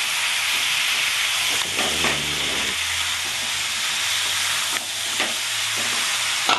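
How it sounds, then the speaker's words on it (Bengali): Raw jackfruit and fried potatoes sizzle and hiss steadily in a hot pan as they are stir-fried, with scraping stirring strokes cutting in now and then. "দুটো একসাথে বেশ কিছুক্ষণ ধরে আমি কষতে থাকবো।"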